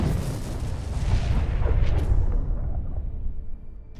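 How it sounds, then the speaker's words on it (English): A kamikaze FPV drone strike explodes a tank in a battlefield column, a loud, close, sustained roaring blast that rumbles heavily and then slowly fades away. "The kamikaze drone successfully copes with this task and gives us spectacular fireworks."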